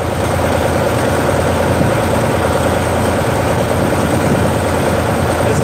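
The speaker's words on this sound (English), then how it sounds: "Got about 40 tractors" About forty farm tractors idling together at the Mackinac Bridge crossing, producing a dense, continuous low diesel drone at steady loudness with no talk.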